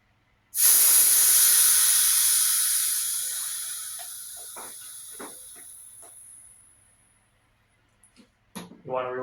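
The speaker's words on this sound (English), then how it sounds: "You want to release the air." Air rushes out of an e-scooter tire on a Joyor S10S or S5 in one loud, steady hiss that starts abruptly and slowly fades over several seconds, followed by a few faint clicks and a brief voice at the end.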